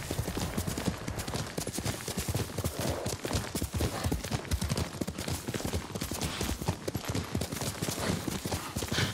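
Rapid clip-clop of galloping hooves in the video game Ghost of Tsushima, rhythmic and close, with a continuous rumbling background and an occasional horse whinny.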